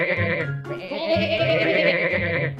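Goats bleat in a steady, overlapping chorus of wavering, nasal calls, close and fairly loud without pause, several animals calling at once.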